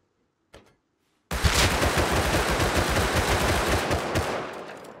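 A Thompson submachine gun fires in the survival game Rust: one short burst, a pause, then a long, loud, continuous stream of rapid automatic fire close up.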